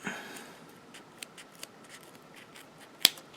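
Hand snips cut through metal banding: a quiet, sparse scene with a few small ticks, then one sharp, loud snap as the band is severed.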